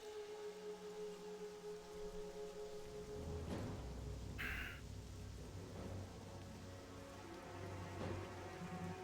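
Faint, steady rain ambience from a VR roleplay game, a soft continuous hiss with a brief brighter tone flaring near the middle.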